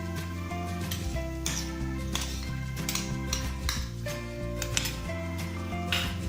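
Tomato, ginger-garlic-chilli paste and onions being stirred in a pan on the stove for aloo matar sabzi, with spoon scrapes and clinks against the pan over a steady sizzle, close and moderately loud, punctuated by sharper metallic taps.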